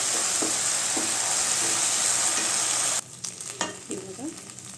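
Chilli chicken with soy sauce stirred in a pan, a continuous bright sizzle with soft scraping stirs that cuts off partway, leaving quieter clinks and scrapes of the spoon.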